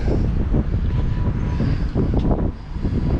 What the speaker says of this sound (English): It's a little windy up here today.